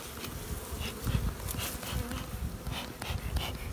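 Many honeybees buzz close by around hive boxes in a dense, fluctuating drone, individual insects swelling and fading as they fly past.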